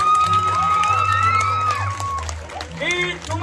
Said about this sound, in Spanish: ¡Un aplauso para Moy!